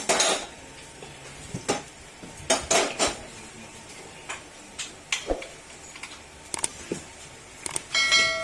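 Hammer blows knock at a stiff, hardened oil seal on a Honda Click 125, sharp metallic clanks and taps arriving irregularly, some in quick pairs, close and fairly loud against a quiet workshop background.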